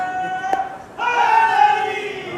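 An audience at a Shia majlis gathering raises a loud chant of religious slogans, voices swelling together after a brief lead call and holding as a sustained crowd cry.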